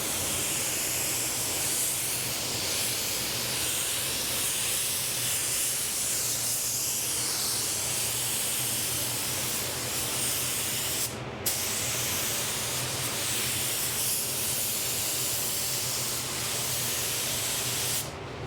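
A spray gun lays a coat of metallic paint onto a car bumper panel, making a loud, continuous close-up hiss that runs almost unbroken with only a brief dip partway through.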